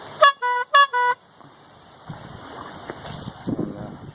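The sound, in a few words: small bike horn honking on a coroplast electric boat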